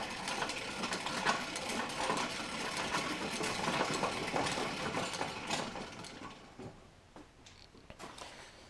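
A Barnes No. 3 treadle lathe runs under foot pedaling, its pulley and toothed belt giving a continuous mechanical whir with rhythmic clatter that eases off toward the end.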